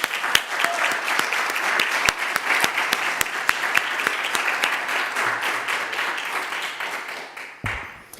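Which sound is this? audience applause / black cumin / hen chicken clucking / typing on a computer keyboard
audience applause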